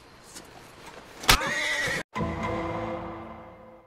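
A horse whinnies in the Red Dead Online video game, a loud, sharp neigh with a trailing, wavering tail, followed after a brief cut by another long, fading whinny.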